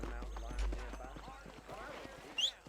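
Horse hooves clip-clop in Red Dead Redemption, a rhythmic run of hoof beats at moderate level, with a voice speaking over them and a brief sharper sound near the end.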